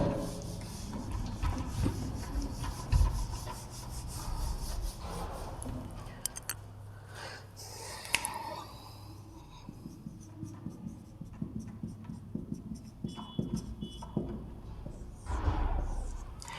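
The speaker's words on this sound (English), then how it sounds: "pay attention here how I am drawing the diagram of electric motor" Pen drawing an electric motor diagram on paper, a soft continuous scratching and rubbing with brief pauses between strokes, close and fairly quiet with no talk.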